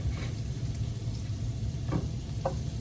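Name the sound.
waffles frying in butter in pans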